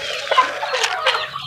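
A mother hen with five chicks clucks in a short run of low, throaty calls close by, with faint chirping and outdoor farmyard noise behind.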